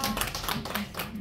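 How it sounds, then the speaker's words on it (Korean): Applause from an audience at a book launch, a short burst of steady, dense clapping that stays at an even level throughout. "박수 한번 주세요"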